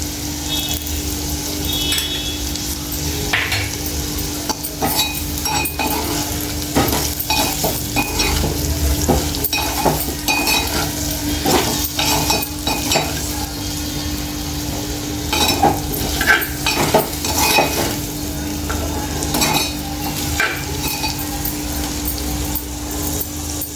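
Potatoes for aloo curry sizzle and crackle in a pan, a loud, close, continuous frying hiss broken by frequent scraping stirs, with no talking.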